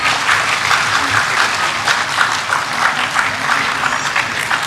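Steady applause from a large audience at a graduation ceremony for an academy, many hands clapping continuously and evenly throughout with no break.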